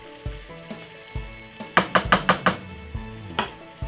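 A spoon knocks and scrapes against a pan as tuna pasta is stirred, with scattered dull taps and then a quick run of five or six louder strokes, close by with faint sizzling underneath.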